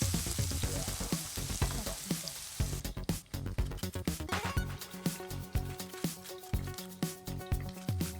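Turnips sautéing with seasoning in a pan, a steady close sizzle with rhythmic stirring scrapes that grow more pronounced partway through.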